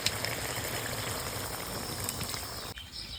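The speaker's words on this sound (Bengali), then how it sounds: "আর দেবো পরিমাণ মতো পানি" Country duck curry with fried potatoes simmering in a pot after water is added, giving a faint, steady bubbling hiss throughout with a brief dip near the end.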